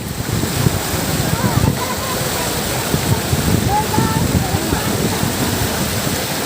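A river flows in a steady, close rushing wash along its bank, with wind buffeting the microphone throughout.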